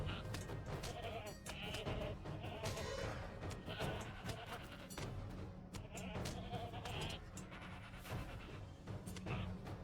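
Goats bleat repeatedly in the video game Lord of the Rings Online, overlapping cries rising over a dense background of game noise and scattered popping sounds, fairly faint overall.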